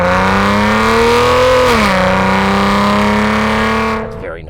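A 2014 Maserati Ghibli S twin-turbo V6 revs loud and close, holding a steady drone that rises, dips briefly, then settles before cutting off abruptly near the end.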